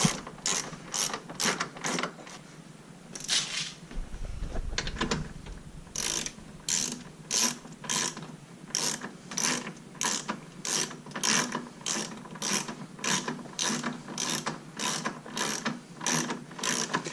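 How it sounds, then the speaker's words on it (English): A hand ratchet tightens 10mm bolts on the front bumper of a Dodge Grand Caravan, with a steady, close run of rapid pawl clicks repeating in even strokes and a brief pause partway through. "We're going to tighten down our 10mm bolts."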